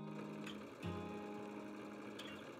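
A sewing machine with a walking foot and size 80 quilting needle stitches along marked quilting lines at stitch length 3, a steady close hum running continuously with a brief break partway through.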